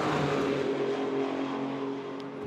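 A Le Mans Cup endurance race car at Le Castellet accelerates back onto the circuit, its engine a loud steady drone that fades slightly as it pulls away.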